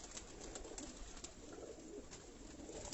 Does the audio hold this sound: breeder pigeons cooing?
yes